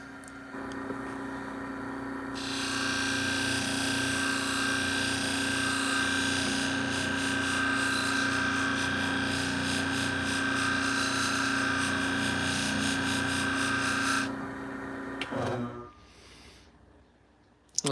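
Salon shears being polished on a spinning sharpening disc with compound, a steady close grinding hum that runs evenly for about twelve seconds before winding down, no talking.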